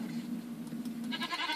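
A goat from the Mo Creatures mod in Minecraft gives a short, fairly faint bleat, standing alone without talk.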